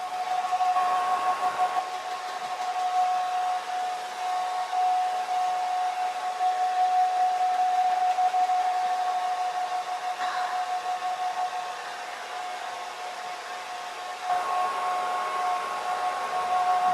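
A hair dryer blows steadily on drying watercolour paint, a loud continuous whooshing hiss with a faint whine, briefly dipping in pitch and level partway through, with no voices.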